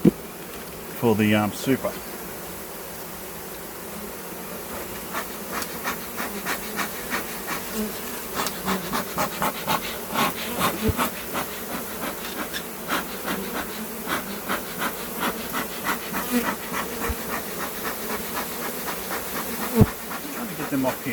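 Honey bees swarm and buzz around an opened Flow Hive during a full hive inspection, a steady close insect drone lasting throughout with scattered clicks and knocks of hive parts being handled, and someone speaking briefly near the start.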